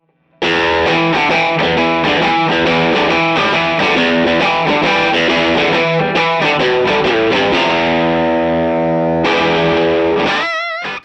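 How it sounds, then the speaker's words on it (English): Heavily fuzzed electric guitar through a fuzz pedal emulating a film projector amp plays loud chords and riffs, thick and saturated distortion throughout, ending with a short burst of notes. "It does emulate the fuzz sound of that amp pretty well"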